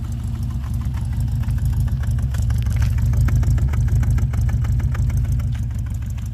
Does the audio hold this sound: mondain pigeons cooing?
no